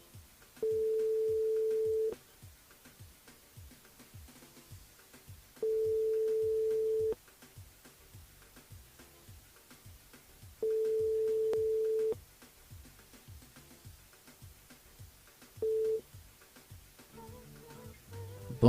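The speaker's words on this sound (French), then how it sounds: "on appelle Idriss sur le standard." A telephone call tone rings on a radio station switchboard: four steady beeps, three long and one short, spaced evenly over a faint ticking background, with no talking.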